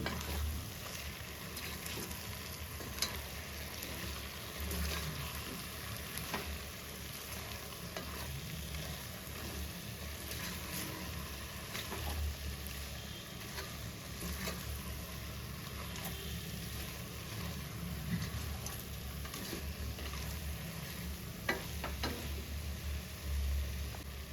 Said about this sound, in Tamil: இப்போது நம்ம பட்டன் காளான் ஆட் பண்ணிக்கலாம் லைட்டாக கிளறி விடுவோம்